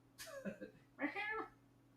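A house cat meowing indoors during a late-night gaming session: two short, quiet meows in quick succession, faint and close, with no talk over them.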